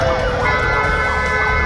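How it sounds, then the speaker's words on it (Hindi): A police vehicle hooter wails on a road in Meerut, with a loud, rapidly rising and falling siren tone that runs continuously and close by. "पुलिस की गाड़ी में बजने वाला हूटर ऐसे बजा रहे हैं मानो इसके लिए कोई स्पेशल कानून लिखा गया हो"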